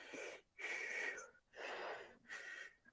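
A person imitates heavy wheezing breathing with three long, raspy, strained breaths separated by short pauses, loud and close with no other sound.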